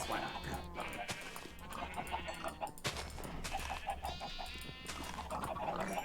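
Blocky farm-sim chickens cluck in a busy overlapping chorus of short repeated calls, fairly close and continuous, over steady game background sound.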